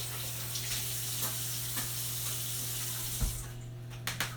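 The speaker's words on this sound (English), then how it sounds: "give them a rinse" Blueberries rinsed under a running kitchen tap, a steady close stream of water splashing for several seconds with a few light knocks near the end.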